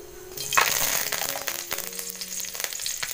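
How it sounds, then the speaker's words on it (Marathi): Green chili and curry leaves dropped into hot oil on a wood-fired clay stove burst into a loud, steady crackling sizzle with scattered pops, close and continuous throughout. "आता ह्यात मी एक हिरवी मिरची आणि कढीपत्ता टाकते अगोदर"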